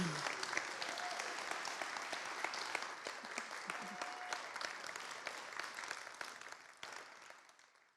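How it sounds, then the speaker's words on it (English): Sustained audience applause at a veterans' community event, a dense, steady patter of many hands clapping that holds for several seconds before fading out near the end. "Another round of applause for Big Lux."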